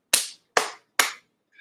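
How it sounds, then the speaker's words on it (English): Three sharp, evenly spaced hand claps ring out close and clear against silence, each with a quick decay, followed by a faint short tone at the end. "Clap, clap."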